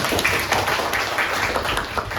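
Applause from a classroom group during a teaching session, a dense, steady patter of many hands clapping close by for the whole moment with no talk over it.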